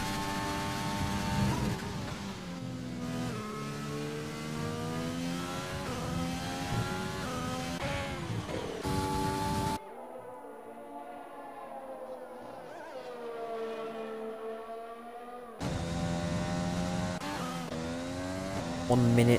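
Formula 1 car pulling out of the pit lane in a racing video game, engine tones rising and falling in harmonic sweeps, loud throughout, with a quieter muffled stretch midway before the full engine returns.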